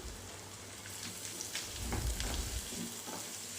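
Two large chopped onions fry with chicken and sweet corn in a pan for a bread cone samosa filling, giving a steady close sizzle with a few stirring scrapes.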